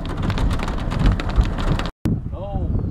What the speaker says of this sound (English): Look at the rain rattling in.